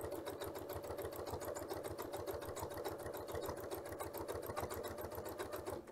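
A sewing machine stitches binding onto a quilt, running continuously with a fast, even mechanical chatter and low motor hum throughout, close and unbroken.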